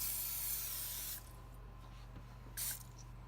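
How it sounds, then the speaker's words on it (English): A steady hiss of aerosol spray, close and fairly soft, stopping briefly and then one short extra burst of spraying. "you're gonna wanna spray it"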